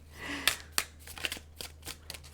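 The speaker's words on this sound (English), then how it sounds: "sometimes the shuffling does take a while" Tarot cards being shuffled by hand at close range, a series of crisp riffling snaps and soft papery slides in an uneven rhythm, fairly quiet with no talking.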